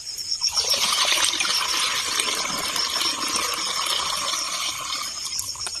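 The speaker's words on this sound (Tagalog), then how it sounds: "Dagdag na naman ng tubig." Water poured steadily into a pesticide and fertilizer mix, a continuous hissing trickle lasting several seconds at close range.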